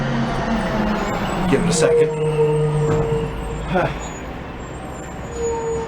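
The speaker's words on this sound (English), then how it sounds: "loud garbage truck moving by." A loud garbage truck rumbles past nearby with a heavy low engine drone and a brief hiss of air brakes, while a voice talks over it.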